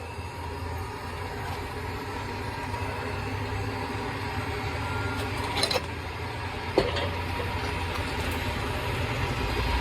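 A Samsung washing machine runs with a loud, steady mechanical drone and rumble, with a couple of brief knocks partway through.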